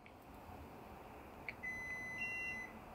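One steady electronic beep from a Victron inverter powering up sounds for just over a second over a faint background hum, preceded by a tiny blip.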